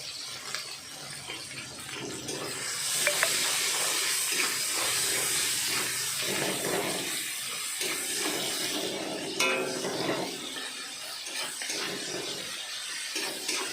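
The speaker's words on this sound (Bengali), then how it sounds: "টমেটো কুচিটা দিয়ে নাড়াচাড়া করে নেব" Chopped tomato sizzling in a pan while being stirred, a broad, steady hiss that swells and eases, with occasional soft scrapes.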